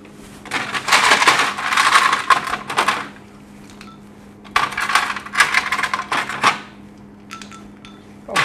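Ice cubes drop and clatter into a bowl of cold water in two bursts of sharp clinks and rattles, close and loud, with a few lighter knocks in between.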